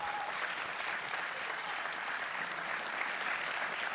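An audience at a League of Legends esports promotion tournament applauds, a dense, steady wash of clapping that holds at even loudness throughout with no break.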